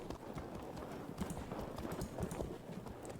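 Javelin cavalry horses moving in the video game Field of Glory 2, a busy, continuous clatter of many hooves at a trot, fairly close and without pause.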